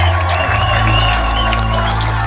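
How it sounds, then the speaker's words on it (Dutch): A crowd at the Belgian time trial championship cheers and applauds Belgian champion Kristof Vandewalle, a loud, dense roar with whoops under an announcer's voice over a low rumble. "Uw applaus voor Christophe van der Wallen."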